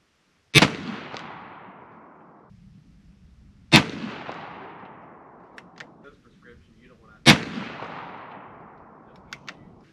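An old muzzleloader rifle fires three loud, sharp shots about three seconds apart, each a close crack trailing off into a long rolling echo, with nothing else heard in between.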